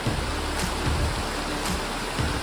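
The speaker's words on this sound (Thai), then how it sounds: "ฝนมันก็ปล่อยๆลงมานะครับ" Heavy rain pouring down at a riverside campsite in Kanchanaburi, a dense, steady hiss of falling water with a few louder splashing gusts, with no talk.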